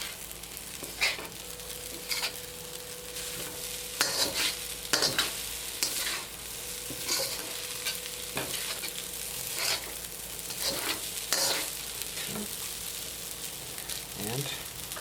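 Blue crab fried rice being stir-fried and mixed gently in a pan, a continuous moderate sizzle with frequent scraping and clattering spatula strokes, a faint voice occasionally underneath.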